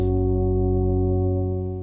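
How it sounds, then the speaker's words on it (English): Meditation music made of sustained harmonic drone tones holding steady, then tapering off in volume toward the end as it fades out. "the fade out sounds like this."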